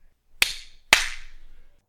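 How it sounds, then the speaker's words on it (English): Two sharp hand claps about half a second apart, crisp and close, each leaving a short reverberant tail in a quiet room. "She claps her hands."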